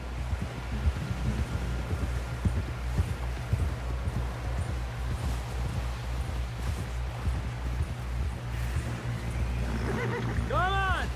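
Horse hooves clip-clopping in a steady gallop during a ride in Red Dead Redemption 2, a continuous rhythmic patter under ambient rumble, with voices talking.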